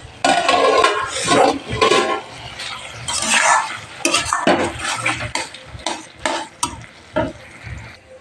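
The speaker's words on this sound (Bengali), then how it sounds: "মশলাটাকে ভালো করে কষিয়ে নিচ্ছি" A ground spice paste with garam masala is stirred and fried in a pan, giving irregular scraping and clinking strokes of a utensil against metal over a soft sizzle, close and fairly loud with no talking.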